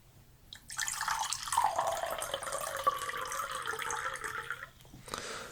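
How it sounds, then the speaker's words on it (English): Water pours steadily into a glass for about four seconds as a refill is served, a continuous bright trickle with a rising pitch as the glass fills, close and fairly loud with no talking. "Let me just get you that additional water refill."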